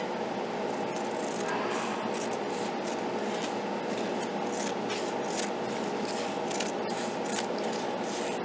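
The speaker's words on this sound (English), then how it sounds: "Let's see first if I can cut this with just some regular craft scissors." Regular craft scissors cut a long triangle from stiffened fabric treated with Mod Podge, making a steady rough, crunchy rasp with repeated short snips close to the mic.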